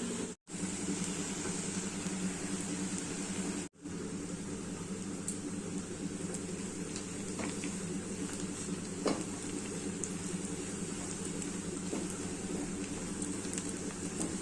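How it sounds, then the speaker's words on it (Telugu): Coconut and garlic chili powder dry roasting in a pan, a steady close sizzle with faint stirring scrapes and two brief dropouts. "డ్రై రోస్ట్ బాగా ఫ్రై చేసుకోవాలండి."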